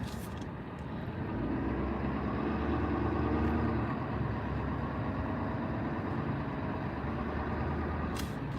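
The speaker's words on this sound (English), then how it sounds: "I'm stuck in all this traffic." Steady low rumble of a car engine idling in heavy traffic, continuous and fairly quiet throughout, with faint surrounding traffic noise and no talk.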